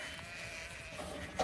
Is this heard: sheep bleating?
yes